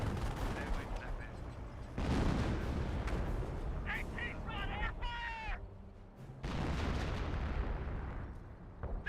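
Incendiary mortar fire rumbles through a Company of Heroes battle, with heavy booms and thumping impacts layered over constant battlefield noise and a brief burst of higher-pitched cries in the middle.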